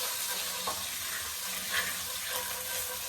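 Food sautéing in a pan for chicken Florentine, a steady close hissing sizzle with a few light stirring scrapes.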